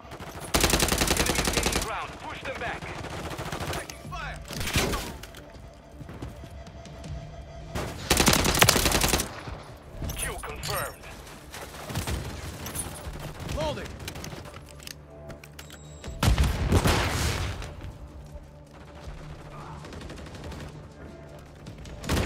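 Bursts of automatic weapon fire and loud shots from an online Call of Duty Modern Warfare 3 multiplayer beta match, with heavy volleys at intervals and a player talking between them.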